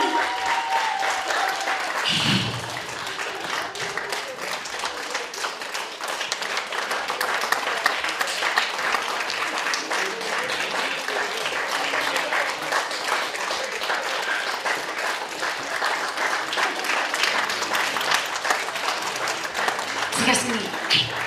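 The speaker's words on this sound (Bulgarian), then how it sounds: "Бурни аплодисменти" Loud, sustained applause from a concert audience fills the whole stretch, dense and steady with a few brief surges, and voices are faintly mixed in.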